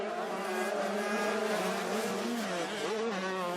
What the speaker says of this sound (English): Valerio Letta, number 3, in black, going after the 172 coming towards us of Cas Valk on the Husqvarna SKS Racing machine.